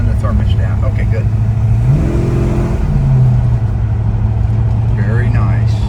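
Dodge Charger build engine running at idle with a slight hesitation off idle, a steady low drone that swells in a brief rev near the middle and settles back, with faint talk over it.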